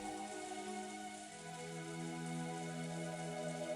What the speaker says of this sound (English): All that remained was the sound of the wind and rain,